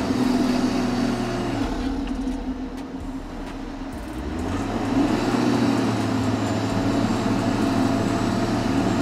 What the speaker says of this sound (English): The wheels with zero grip are still slipping.